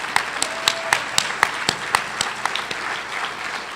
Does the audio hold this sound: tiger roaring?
no